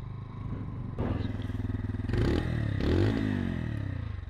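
Brixton 125 motorcycle pulling away, its small single-cylinder engine thudding at idle, then revving up in a couple of rising surges, close and fairly quiet.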